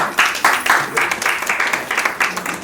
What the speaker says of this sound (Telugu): గట్టిగా క్లాప్ అందరూ.